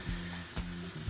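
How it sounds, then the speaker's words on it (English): A soft, steady sizzle of a hamburger frying in a pan, quiet and continuous with faint crackles. "while that burger is frying now"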